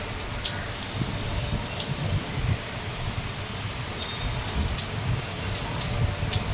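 Heavy rain pours steadily onto surfaces, a dense continuous hiss with scattered louder drops, no talking.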